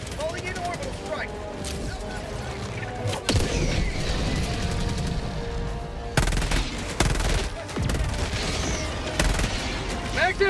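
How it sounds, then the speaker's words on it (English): Orbital strike explosions and heavy gunfire in the Helldivers 2 video game, with rapid bursts and booming blasts going off over dense, continuous battle noise; game voices shout over the action. "Calling in orbital strike."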